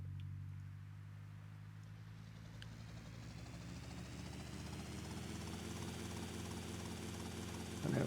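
A helicopter in GTA Vice City Definitive Edition on PC drones with a steady rotor throb and engine whine that slowly rises in pitch, loud and close, with no talking.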